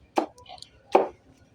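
Two sharp knife chops on a cutting board while food is chopped, spaced under a second apart, close and distinct, with faint background sounds between them.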